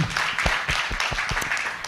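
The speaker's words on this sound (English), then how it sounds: "Please give her a big round of applause and welcome." Audience applause at a women's forum, a steady wash of many hands clapping with some sharper individual claps standing out, moderately loud throughout.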